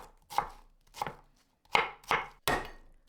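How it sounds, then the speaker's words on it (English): Two onions being cut into chunks with a knife on a board: five crisp, separate chops in an uneven rhythm, close and clear with quiet gaps between. "Cut 2 onions into chunks."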